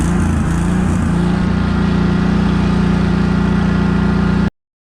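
Steady, loud engine drone from a vehicle being driven around a commercial lawn care property, holding an even mid-range hum throughout before cutting out abruptly near the end; no talking.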